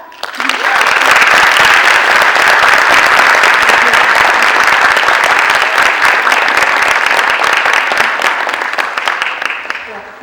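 Loud, sustained applause from a seated audience welcoming a speaker at a business event, dense clapping rising quickly and holding steady before tapering at the end.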